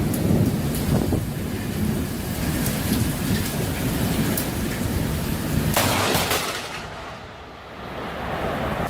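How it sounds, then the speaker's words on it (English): Steady heavy rain hissing through a Queensland thunderstorm, with a loud thunder crack and rumble in the middle before the downpour briefly thins and swells again. "a tourist decided to capture some lightning during a storm"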